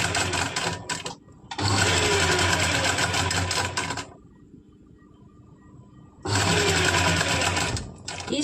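A sewing machine stitches a small buckram piece onto a kurti collar in two loud, steady bursts of whirring. A quiet gap with faint background noise lies between them, and a short burst comes near the start.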